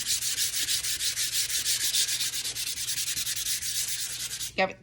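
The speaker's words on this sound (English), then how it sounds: "So it's easy for me just to kind of sand up and down." Rapid up-and-down scratching of sandpaper on wood by hand, steady and rhythmic, close up, ending with a brief knock.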